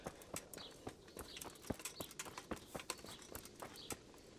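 A horse in the medieval video game Kingdom Come: Deliverance clops along with quick, rhythmic hoofbeats, faint and fairly even throughout.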